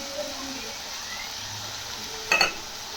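Sliced ridge gourd stirred with salt and chilli powder in a hot pan, a steady close sizzle with a brief scrape of the spoon near the end, no talking.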